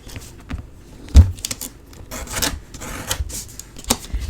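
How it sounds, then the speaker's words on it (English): Burnishing score lines on cardboard for a junk journal, soft scattered rubbing and scraping strokes with a few small taps, close and quiet, no talk. "it's going to be tight squeeze burnishing that last little one"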